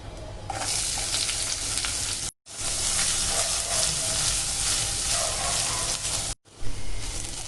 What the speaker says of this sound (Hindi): अब मैं इसमें डालूंगी 1 ऑनियन।